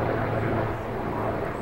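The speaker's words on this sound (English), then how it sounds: "We have a lot of corporate helicopters that fly overhead here in Connecticut." A corporate helicopter passing overhead in Connecticut gives a steady, moderately loud engine drone with a broad rumble, constant throughout and without speech.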